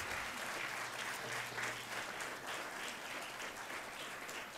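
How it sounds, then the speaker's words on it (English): Steady applause from an audience for moot court competition participants at a college event, a dense continuous patter of many hands with a low hum beneath. "Give them a big round of applause, please."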